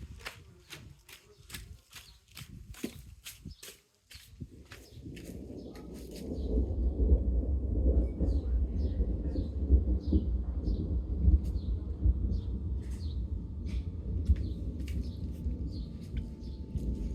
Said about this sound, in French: Ça tonne fort, hein.